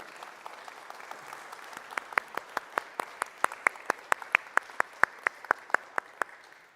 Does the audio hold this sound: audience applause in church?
yes